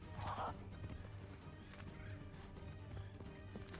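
A horse gallops in Assassin's Creed III with rhythmic hoof clip-clops and a whinny near the start, set against game ambience and someone talking over it.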